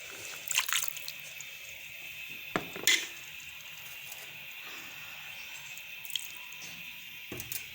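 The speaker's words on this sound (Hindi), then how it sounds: "पानी थोड़ा सा शामिल करेंगे बीच में, ताकि इनके साथ कोई मसाला लगा ना रह जाए।" Water poured into a pan of frying spices for a vegetable bhujia, producing sharp sizzling bursts and splashes over a quiet background hiss.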